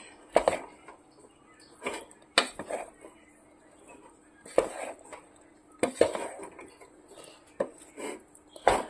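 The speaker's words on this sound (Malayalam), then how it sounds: "ഇളക്കി കൊടുക്കാം." Macaroni in cheese white sauce being stirred in a pan, the spoon knocking and scraping against the metal in sharp, irregular clinks separated by quiet gaps, close and clear, no talking.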